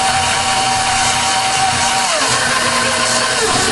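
Stand mixer with a scraper blade beating loosened cheesecake batter: a loud, steady motor whir with a constant drone and no pauses, close by and without talking.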